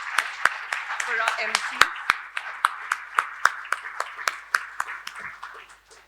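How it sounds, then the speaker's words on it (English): Audience at a market research seminar awards session claps in a sparse, rhythmic round of individual hand claps, fairly close, while someone speaks over the start. "I don't think anybody wouldn't burst into huge applause"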